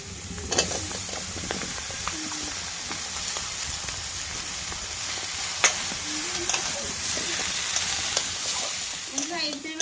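Crab curry sizzling and frying in a pan as cut potatoes and Malabar spinach are added, steady hissing with occasional stirring clatters and soft scrapes, close and continuous.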